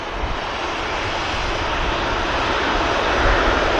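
An EasyJet airliner taxiing at Manchester Airport gives off a steady, loud engine roar that holds evenly throughout with no break.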